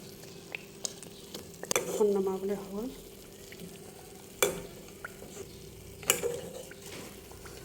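A layered nimki snack fries in oil toward golden brown with a faint steady sizzle. A few sharp utensil clicks and scrapes punctuate it, and a voice speaks briefly over the frying.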